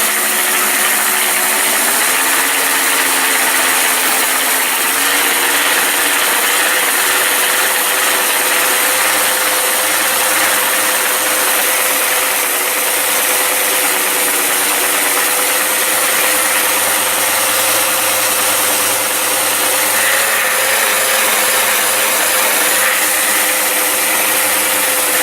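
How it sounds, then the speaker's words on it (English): An 8-inch sander works steadily on a bumper, clearing smeared, melted material, a continuous loud whirring grind with a low motor drone throughout, without speech. "That's the reason for taking this 8-inch sander, and it will clean it out of there."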